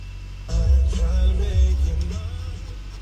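A 2019 GMC Denali engine cranks and catches about half a second in, rising into a loud low rumble that settles into a steady, slightly fading idle with a faint whine above it.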